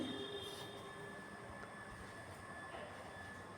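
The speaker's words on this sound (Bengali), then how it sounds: "ট্রেন ছেড়ে দিয়েছে।" A passenger train pulls out of Sribhumi station in Assam, heard from inside the carriage: a steady, close rumble of wheels and car noise with faint rail squeal, no talking.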